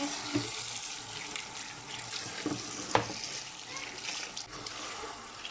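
Tap water runs steadily while fresh garden tomatoes, some of them muddy, are rinsed clean in a kitchen sink, with a few soft splashes and knocks mixed into the continuous hiss.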